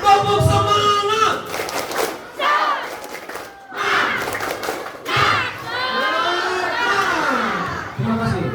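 A roomful of young listeners at a school reproductive-health talk repeats the 'tepuk semangat' clap chant, their shouted voices loud and close, with scattered claps and a leader's voice between rounds.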